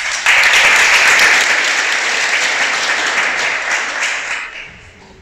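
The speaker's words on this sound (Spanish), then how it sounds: "Dale un aplauso al Creador." Loud, dense audience applause fills a religious gathering, sustained for several seconds before tapering off toward the end.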